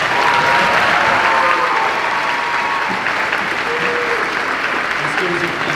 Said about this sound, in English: Let's have a round of applause for all of those.